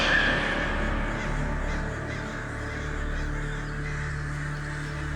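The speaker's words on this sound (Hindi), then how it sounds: "सारे के सारे कौवे तो यज्ञ स्थल की ओर बढ़ रहे हैं" A flock of crows cawing in a television episode sound effect, harsh repeated calls layered over a dense, continuous background of bird noise at steady loudness.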